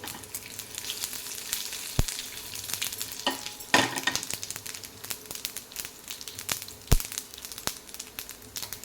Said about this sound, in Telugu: ఆయిల్ కొంచెం వేడైన తర్వాత ఇందులో తాలింపు గింజలు మినపప్పు పచ్చిశనగపప్పు ఆవాలు జీలకర్ర అలాగే రెండు ఎండుమిర్చి ఇలా తుంచి వేసుకోండి